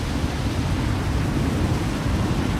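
A steady, dense roar of heavy rain and wind from a twister in the Farming Simulator 25 video game, a constant broadband rush with no breaks and no voices.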